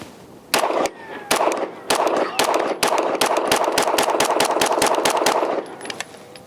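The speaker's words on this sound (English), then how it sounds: "Gonna shoot some 124s, and let's see how it does." A DUSK 19 R Glock-clone pistol fires 124-grain rounds at 10 yards: a fast string of sharp, loud, close shots in quick irregular succession, with a few brief pauses between clusters, then the firing stops.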